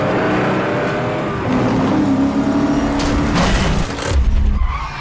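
A 5-liter Ford Mustang GT racing a Chrysler 300 in a film chase scene: loud, close engine roar with tyre squeal and skidding, rising toward the end over background score.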